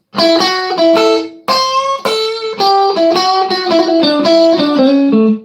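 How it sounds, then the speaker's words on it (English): An electric guitar with a driven, effected tone plays a quick bluesy lick of many picked notes from the minor pentatonic scale with added sixth and ninth, ending on a lower held note. "adding to the minor pentatonic scale, and it sounds like this"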